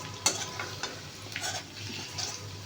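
Chopped garlic fries in oil in a pan, giving a quiet sizzle with a few scraping stir clicks and clatters over about three seconds.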